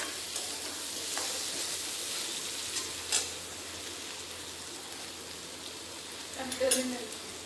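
Potatoes sizzle in a covered pan and are stirred, with a steady hiss of frying broken by a few scraping clinks of a spatula against the pan, close and moderately loud.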